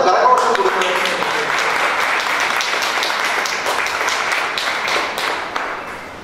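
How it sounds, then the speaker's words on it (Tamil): Audience applause for devotional singers at a satsang marking a Jayanthi function, a dense, sustained round of clapping that fades slightly toward the end, with voices faintly underneath. "நாம் எல்லாம் சேர்ந்து அவர்களுக்கு அவர்கள் செய்யும் சேவைக்கு ஒரு பலத்த கரகோஷம் கொடுக்கணும்"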